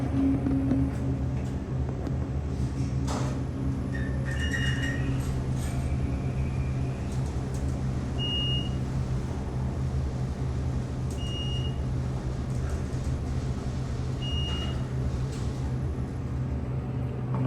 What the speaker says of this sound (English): I'm not sure if you heard the motor well over the fan.